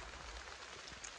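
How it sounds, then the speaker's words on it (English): Steady rain falls on garden plants and a kiwi vine, a soft even patter and hiss filling the whole moment, faint and continuous with no voices. "I may just go dance in the rain because finally it's raining"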